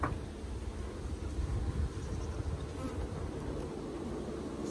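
Honeybees hum in a dense, steady drone close by, the buzzing swelling and dipping slightly as a swarm moves around the hive.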